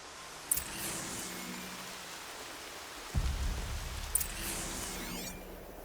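Steady rain falls in the video game Horizon Zero Dawn Remastered, a soft continuous hiss with a low rumble of thunder partway through and a couple of brief sharp effects over it.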